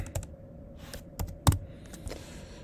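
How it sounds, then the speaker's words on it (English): Keys tapped on a computer keyboard, a handful of distinct, irregularly spaced clicks, one louder than the rest, close and clear over a quiet room. "We'll just type Porsche in there."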